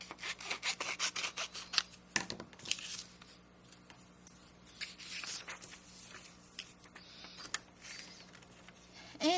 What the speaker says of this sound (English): We need to cut this out. Rough cut it out first.